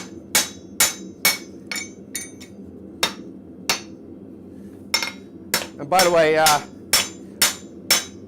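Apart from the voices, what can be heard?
hammer striking its handle to reseat the head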